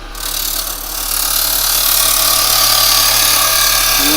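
A wood lathe spins a piece of very hard, dry yew while a tool cuts a tenon on the end, giving a steady rising rasp and scraping hiss over a constant motor hum, close and loud, with no voices.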